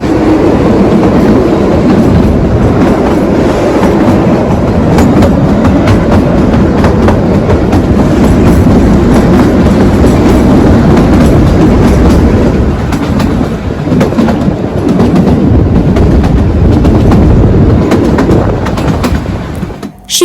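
The Kalka-Shimla toy train, a narrow-gauge hill railway, rolls along its rails with a loud, steady rumble and clatter of wheels that runs close and unbroken for about twenty seconds before cutting off abruptly.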